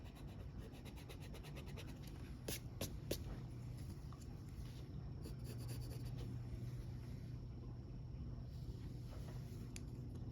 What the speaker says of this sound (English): And now we can erase some excess lines.